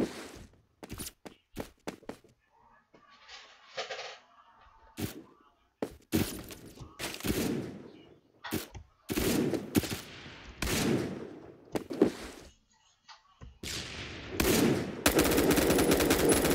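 Rapid bursts of automatic gunfire from the online shooter game Phantom Forces, loud and close, coming in repeated volleys separated by brief gaps, with occasional thuds and sharp cracks.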